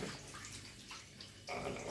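Hands being washed under a running tap in a home kitchen, a steady close splash of water that swells louder in the last moments, with no talking.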